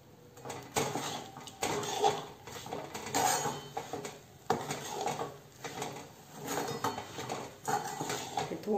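Puffed rice coated in jaggery syrup is tossed in a pan, heard as repeated bursts of scraping and metallic rattling from a spoon against the pan, in rhythmic waves, close by.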